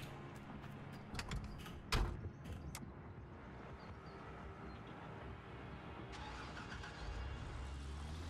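A truck engine in the mining game Gold Rush cranks and turns over after a few clunks, then settles into a low, steady idle that stays fairly quiet.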